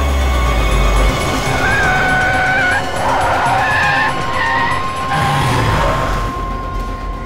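A car brakes hard and skids to a stop, tyres squealing in several rising and falling screeches over a few seconds, loud and close, with road noise fading out at the end.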